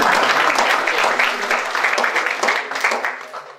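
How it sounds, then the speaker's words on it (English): A conference audience applauds a speaker being introduced, a dense patter of many hands clapping at moderate loudness that gradually thins and fades toward the end. "I'm expecting a round of applause at this point."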